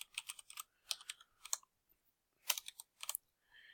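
Keys clack on a computer keyboard in short bursts of typing with brief pauses, close and fairly quiet, no voices.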